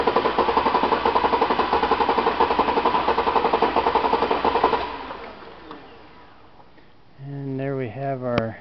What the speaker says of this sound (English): and then we'll crank the engine over.